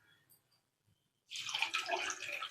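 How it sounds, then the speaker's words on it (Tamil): After a quiet moment, water pours steadily into a cooking pot with a splashing, gurgling rush that continues to the end. "கொஞ்சமாக தண்ணி ஆட் பண்ணிக்கோங்க"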